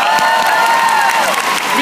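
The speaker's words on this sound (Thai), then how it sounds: "ขอปรบมือให้กับคุณเต้บุริศนะครับผม" Audience applause and cheering at a live stage show in Thailand, a dense, steady wash of clapping and crowd noise filling the short moment with bright tonal sounds riding above it.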